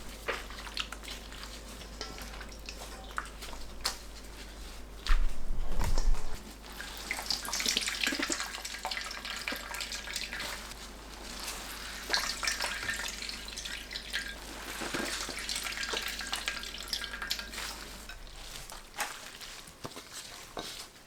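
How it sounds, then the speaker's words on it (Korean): Salted old cucumber (nogak), soaked for 30 minutes, is squeezed by hand so the brine drips and splashes steadily, with a louder wet squish partway through, heard alone without speech. "총 30분 절인 노각을 물을 짭니다."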